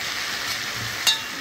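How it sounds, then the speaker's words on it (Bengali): Chickpeas tipped into a pan of hot frying masala set off a steady close sizzle with a brief sharper crackle near the end, and no voices over it. "ছোলাটা আমি ঢেলে দিচ্ছি, ছোলাটা ঢেলে দিলাম"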